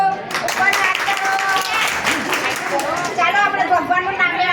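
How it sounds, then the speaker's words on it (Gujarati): A group of children claps in a lively, uneven burst, with chatter and an adult voice mixed in around the applause. "ચાલો બાળકો તાળી પાડો."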